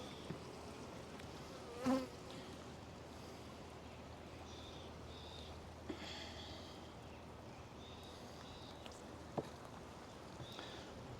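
Honeybees hum in a continuous soft drone during an open hive inspection, with a few brief closer buzzes and small clicks of frames and tools but no voices.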